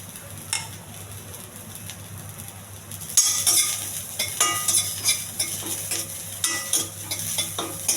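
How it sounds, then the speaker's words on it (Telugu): Curry leaves, cumin, dried and green chillies sizzle in a pan, the frying hiss swelling as a spoon stirs and clinks against the metal in short repeated scrapes. "కొంచెం బాగా వేగించాలి."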